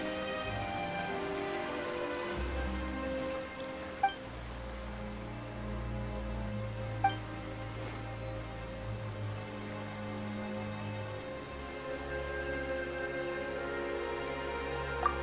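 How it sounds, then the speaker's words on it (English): Continuous rain in Genshin Impact patters beneath a low, shifting musical drone, with a few sharp isolated clicks standing out; fairly quiet and steady throughout. "Why is it raining all of a sudden?"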